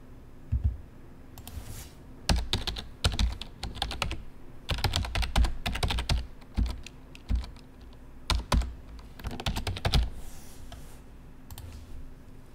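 Rapid bursts of typing on a computer keyboard, clustered keystrokes with short pauses in between while vehicle details are entered into a form, close and crisp.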